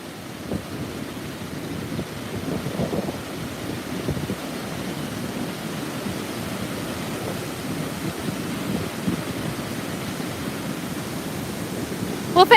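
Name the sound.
Great Falls waterfall roaring, Maryland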